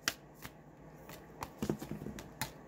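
Oracle cards being shuffled and drawn by hand, quiet close riffles and light slaps of cards in irregular bursts, with soft handling noises in between.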